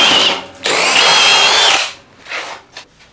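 Milwaukee 2804-20 and DeWalt DCD998 hammer drills driving a large lag bolt: loud, steady high-pitched drilling whine in two bursts, then fainter short tool noises trailing off.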